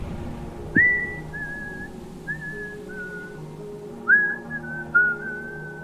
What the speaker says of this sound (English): resuming his whistling